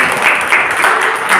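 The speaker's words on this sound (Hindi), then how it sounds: "ताली बजा देगा" A small audience at a student public-speaking session claps steadily in a short, dense burst of applause, close and fairly loud with no speech over it.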